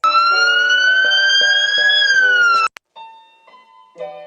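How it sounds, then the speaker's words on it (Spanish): A loud ambulance siren wails close by as the ambulance speeds past, with a steady rising-and-falling tone, then cuts off abruptly, leaving faint, fading tonal traces. "Un carro tocando la bocina, una ambulancia pasando a toda velocidad"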